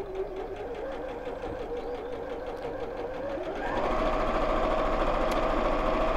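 A sewing machine stitches a quarter-inch seam straight down fabric, its fast even chatter running throughout and growing louder and quicker partway through, close by with no talking.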